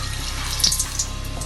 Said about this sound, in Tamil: லோ ஃப்ளேமில் வச்சு இந்த மசாலாவை எடுத்து இதில் டிப் பண்ணி போண்டா மாதிரி எண்ணெயில் போட்டுக்குங்க.